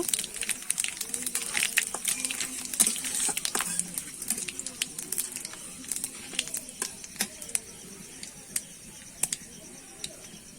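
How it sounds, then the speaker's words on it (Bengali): Whole dried chillies and panch phoron seeds fry in hot oil, giving a close crackling sizzle with sharp pops and spits, busiest at first and thinning to sparse crackles later. "আমি দেখো গোটা লঙ্কা আর পাঁচ ফোড়ন ফোড়নে দিয়ে দেবো ফোড়নটা আমি ভালো করে ভেজে নেব"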